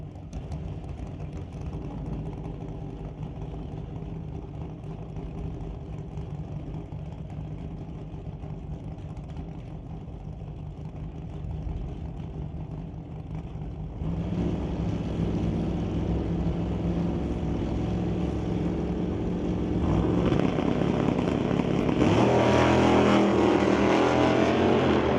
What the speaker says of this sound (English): The Lost in Time Bel Air will race against the 2021 Hot Rod champion and the 69 Dart.